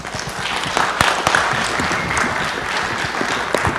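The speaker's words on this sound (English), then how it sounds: "give these guys a big round of applause" Applause from a city council audience honoring public works staff, a dense, steady wash of clapping held loud and close for the whole stretch, with sharper individual claps popping out of the crowd.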